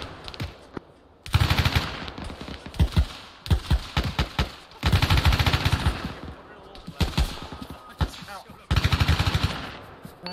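Bursts of automatic gunfire ring out in a military video game, loud and close, in several long volleys separated by brief pauses, with single shots between them.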